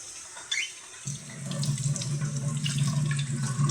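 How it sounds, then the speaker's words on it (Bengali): Water pours steadily from a kitchen tap during hand washing, starting quietly, then swelling into a fuller, continuous splashing stream a second in that holds to the end, near and alone. "বারবার হাত ধোয়ার এই কাজ"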